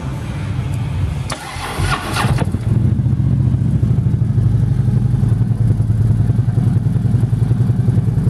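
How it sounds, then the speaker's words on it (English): A 2011 Harley-Davidson Road Glide Custom motorcycle starts up with a brief cranking burst, then settles into a loud, close, lumpy idle that thumps steadily for several seconds. "we're going to fire this baby up"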